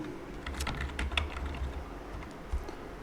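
Fingers typing an email address on a computer keyboard, a quiet run of quick, uneven key clicks close by, with no talking.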